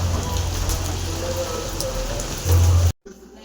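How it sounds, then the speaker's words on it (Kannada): Heavy rain pours steadily outdoors during a car shoot, a dense close hiss of drops on surfaces, louder near the end before cutting off abruptly. "ಈ ಮಳೆ ಬರ್ತೈತೆ ಇಲ್ಲಿ"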